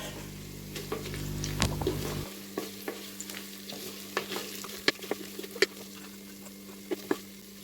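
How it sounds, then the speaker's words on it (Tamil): Mint leaves are stirred into mutton biryani in a clay pot, with a low background sizzle and a steady run of sharp spoon scrapes and clicks close by, a low hum dropping away early, no talking. "அடுத்ததாக எடுத்து வச்சுருக்க புதினா இலைகளை சேர்த்துக்கலாம். இதையும் நல்லா கிளறி விட்டுருவோம்."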